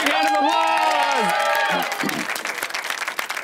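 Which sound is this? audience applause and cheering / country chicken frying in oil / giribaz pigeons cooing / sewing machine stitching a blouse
audience applause and cheering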